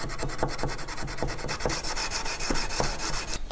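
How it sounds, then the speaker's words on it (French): Hand sanding of a steel knife blade with sandpaper: close, continuous rasping strokes in a steady back-and-forth rhythm with brief scratchy peaks, and no voice. "Il faut continuer le ponçage tant qu'on voit la moindre rayure du grain précédent"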